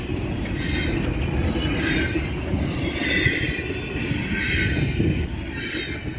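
A freight train hauled by SD60E locomotives rolls past, a continuous loud rumble of wheels and cars with periodic rises in clatter, no voices.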